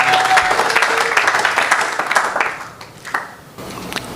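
A church congregation at a Sunday service applauds the Lord with loud, dense clapping and cheering close by, swelling and then tapering off toward the end.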